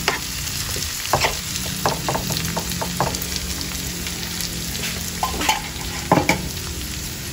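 Corned beef and vegetables being stirred in a frying pan, steady sizzling with repeated scraping and clacking of the utensil against the pan, close and busy, no one talking.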